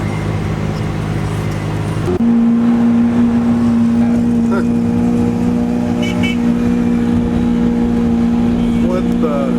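A Lamborghini Aventador S pulls hard toward top speed, its engine droning loudly at a steady high pitch after a sudden gear change, with road and wind roar underneath and people talking inside.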